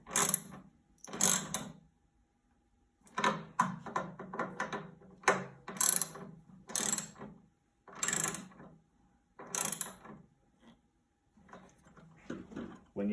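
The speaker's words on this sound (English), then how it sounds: "snug them down using your wrench" A wrench snugging down screws during an NTI boiler LP/NG gas conversion, giving repeated short clicking ratchet bursts separated by pauses, close and fairly quiet.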